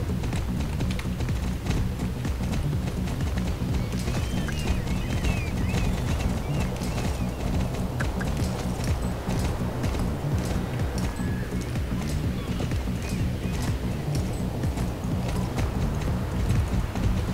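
Horses trot in the video game Star Stable Online, a continuous fast patter of hoofbeats heading to the beach, steady and fairly loud, with game ambience underneath and no talking.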